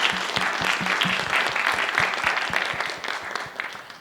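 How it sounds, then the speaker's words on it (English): An audience applauds the panelists after a panel discussion on sovereign AI, a brisk, full round of clapping close by that gradually thins and softens toward the end. "Let's give our panelists a round of applause."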